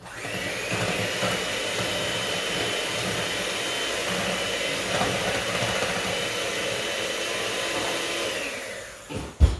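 Electric hand mixer fitted with one set of paddles beating a dessert mixture, a loud steady high-pitched whir running continuously for several seconds before clattering to a stop.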